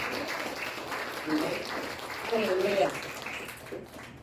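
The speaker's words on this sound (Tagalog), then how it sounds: "Kung kayo nag-agree, pwede mo pumalakpak tayo sa ating Panginoon" A church congregation at a Sunday worship service applauds in a steady, moderately quiet wash of clapping, with voices talking over it throughout.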